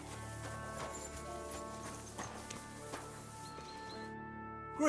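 Horse hooves clip-clop faintly in Kingdom Come: Deliverance, a few spaced thuds under a steady hum of game ambience and music.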